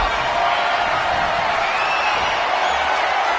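Arena crowd in a WWE wrestling video game roars and cheers in a continuous loud wash of noise, with no distinct voices standing out.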